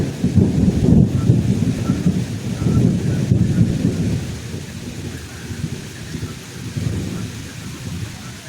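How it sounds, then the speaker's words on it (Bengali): Steady rain pours down at a safari park with low rumbling bursts of thunder, loudest at the start, fading into a continuous wash of rainfall. "এই যে দেখেন বৃষ্টি পড়ছে"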